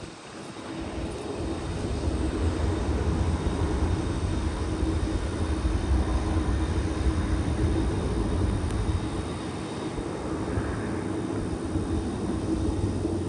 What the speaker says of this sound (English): Now we're gonna go back to the north complex to catch the departure of Iberia flight 380.